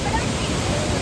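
Water at the Ripple waterfalls in Munnar rushes steadily, a dense, even roar that fills the whole brief moment without any break.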